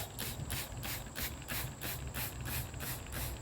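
Quick, regular bursts of hissing bleach spray from a spray bottle onto wood repeat about every quarter second, faint and close, with a clicking trigger mechanism under each squirt.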